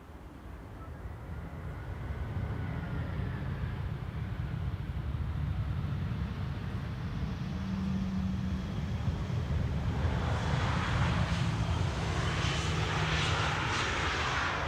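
A KLM Boeing 787-9 Dreamliner arriving from Buenos Aires lands at Schiphol's Polderbaan runway, a continuous broad jet roar that swells gradually from moderate distance with a low engine drone underneath.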